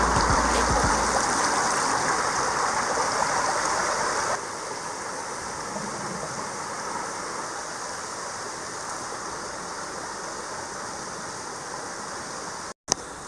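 The waterfall and stream in the Müllerthal, Luxembourg, give a steady, close rush of flowing water, an even and unbroken wash throughout with no voices.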